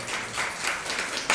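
A church congregation claps during a Sunday morning worship service, a brief burst of dense, even applause that swells sharply near the end.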